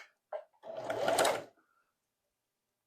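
A Singer 4411 Heavy Duty sewing machine runs slowly for a short burst of stitching, a close whirring hum that rises and stops, with a couple of small clicks before and nothing after.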